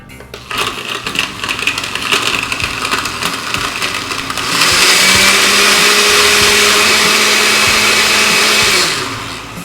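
A Blendtec blender chews through a green smoothie with ice and frozen fruit, first a choppy, rattling low-speed grind, then ramping to a loud, steady high-speed roar that cuts off at the end.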